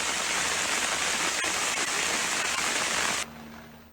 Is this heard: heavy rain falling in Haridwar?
yes